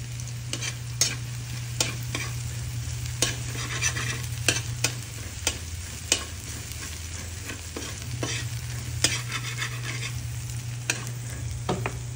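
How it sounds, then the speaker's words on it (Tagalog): Garlic sautéing in hot oil in a pan, a continuous loud sizzle broken by regular sharp scrapes and taps of a stirring spatula, heard close with a low steady hum beneath. "Papulayin lang natin ng konti yung bawang."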